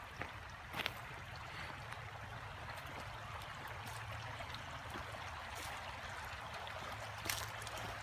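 A creek at a campground near the Smoky Mountains runs steadily in the background, a low continuous trickle and babble with a few faint knocks, fairly quiet and with no talking.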